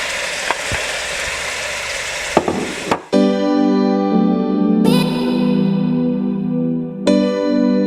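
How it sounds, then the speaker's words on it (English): Fresh chopped tomatoes hit a hot frying pan for Ghana egg stew, a loud sizzle and stir for about three seconds, then quieter bubbling under a few gentle background music notes. "I'm going to add my fresh chopped tomatoes"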